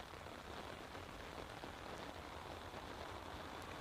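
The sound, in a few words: heavy rain downpour at Manchester Airport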